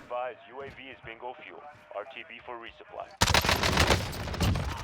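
Someone speaks briefly in Call of Duty Cold War Warzone, then SMG gunfire erupts in a dense, loud burst of rapid shots from the game that fills the rest of the clip.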